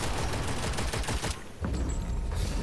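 A gun in the video game Witchfire fires in a rapid, loud string of shots, pauses briefly, then resumes with another sustained burst of close gunfire.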